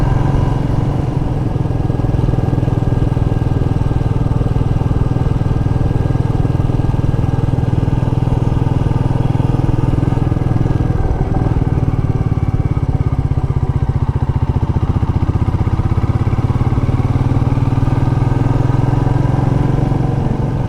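A Royal Enfield Meteor 350 motorcycle cruises along a road in second gear, its steady engine drone and exhaust note running continuously and loud with wind noise throughout, no talk.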